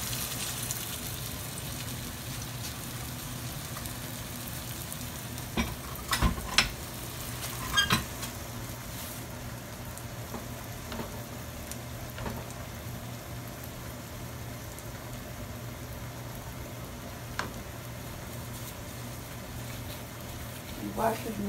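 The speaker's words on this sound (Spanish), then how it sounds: "Y lo llevamos al aceite caliente." Chorizo and bean empanadas frying in hot oil, a faint, steady background hiss of bubbling oil with a few soft clinks and knocks scattered through it.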